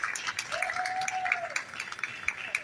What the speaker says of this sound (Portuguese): Isabel Filardes e sua filha Ana Luiz, com uma salva de palmas, por gentileza